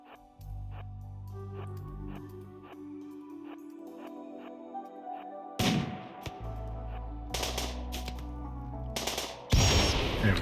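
Gunfire in RimWorld during a colony skirmish, a string of light rhythmic shots under steady game music, then louder bursts near the end, all fairly quiet with no talk.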